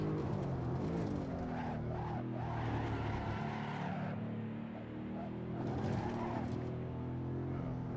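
A BMW E92 M3 race car engine in a video game roars continuously at moderate volume around the Nürburgring, dipping as it slows under braking before building again.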